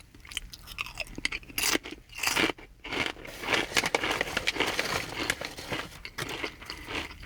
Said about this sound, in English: Very satisfying crunch.